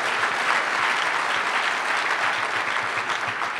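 An audience at a memorial lecture applauds steadily, a dense wash of many hands clapping at even loudness throughout, fairly close and without talk.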